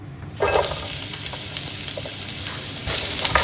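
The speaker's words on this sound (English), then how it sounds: "We will now fry this onion until it is nice and golden" Steady, loud sizzling of onion frying in hot olive oil in a preheated pan, with occasional stirring scrapes and crackles close by.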